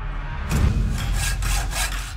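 A hand saw rasps back and forth through a metal ring in quick, rough strokes, close and loud, over a low rumbling background hum.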